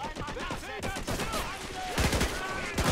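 Machine-gun fire rattles in rapid bursts in a World War II strategy game match, mixed with other battle noise and someone talking over it.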